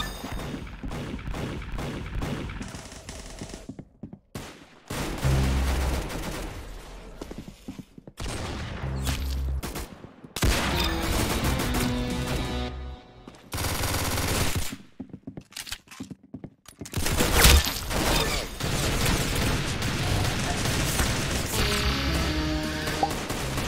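Bursts of rapid gunfire from the Roblox shooter game Arsenal, loud, close and near-continuous, with sharp metallic impacts and clangs breaking in between the volleys.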